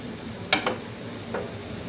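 Vegetables cooking in a pan for jalapeno chicken give off a soft, steady sizzle, with a few brief, louder stirring clinks and scrapes against the pan.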